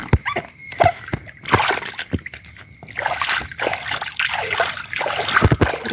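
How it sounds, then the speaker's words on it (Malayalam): Soil is rinsed from a garden pot in fast-flowing water during monsoon flooding, with irregular close splashes and sloshing pulses over a steady running-water wash. "നമുക്കത് വെള്ളത്തിലൊന്ന് കഴുകി എടുക്കാനായിട്ട് പോവാണേ. നല്ല ഒഴുക്കുള്ള വെള്ളം."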